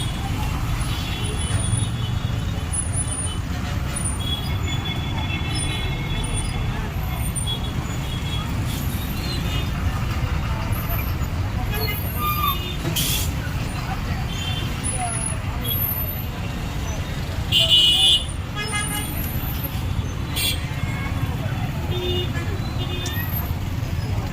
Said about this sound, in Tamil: இது டிராஃபிக்கை பாருங்கள் பயங்கர டிராஃபிக்